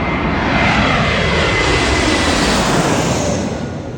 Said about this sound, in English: The first flight we caught was Frontier Airlines Flight 987 from Cancun to STL.